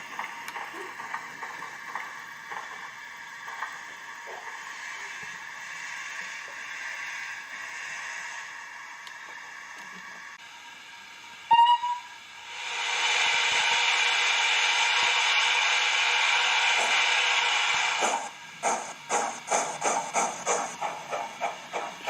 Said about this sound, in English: 64203 arrives in the sidings with the empty mineral wagons.